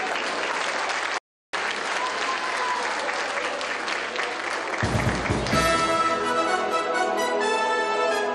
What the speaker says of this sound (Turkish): Alkışlıyoruz Kanışay Ulanbek kızı.